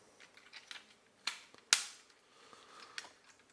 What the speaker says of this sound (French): On va clipser tout ça et on remet les pans correctement.